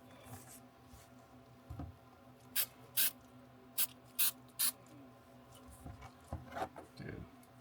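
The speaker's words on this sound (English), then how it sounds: "Got some 3M spray adhesive." Short bursts of 3M spray adhesive hiss from an aerosol can in a garage during work on a Toyota JZX100, about five or six brief sprays in fairly even succession over a low background hum, with light clatter between them.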